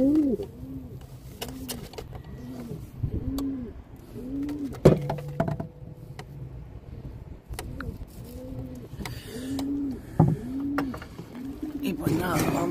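A racing pigeon gives repeated soft, rhythmic coos at a pigeon race release, close and steady throughout. Several sharp clicks and knocks break in, and people talk in the background.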